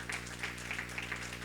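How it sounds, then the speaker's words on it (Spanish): Church congregation applauding during a missions night service, a steady dense clapping that stays even and fairly loud throughout the short stretch. "Es un aplauso fuerte al Señor."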